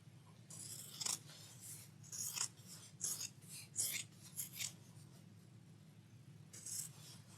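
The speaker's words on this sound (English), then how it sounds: "And I'm going to cut at an angle," Scissors snip through quilting fabric at an angle while trimming a mug rug, giving a series of crisp, close cuts in an uneven rhythm with no voices.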